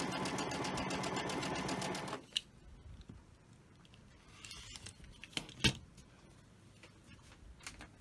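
A sewing machine stitches quilt fabric in a fast, steady mechanical whir for about two seconds, then stops, followed by quieter clicks, fabric handling and small taps nearby.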